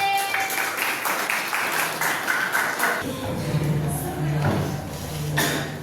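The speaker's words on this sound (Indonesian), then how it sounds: "tepuk tangan untuk 9B" Students of class 9B clap in a classroom, a scattered burst of applause with some sharper individual claps and a faint ringing tone behind.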